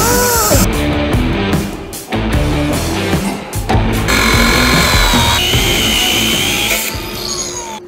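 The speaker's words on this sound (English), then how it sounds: "So I'm gonna grab a die grinder." A die grinder grinds out the inside of a steel oxygen tank, cleaning the surface for welding: a loud, continuous, harsh whine with shifting pitch and scraping bursts, with no talking.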